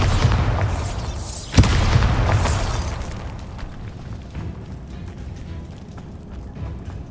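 A Bombarda spell explosion in the Hogwarts Legacy video game: one close, loud boom with a sharp crack, followed by a long rumbling tail that slowly fades away.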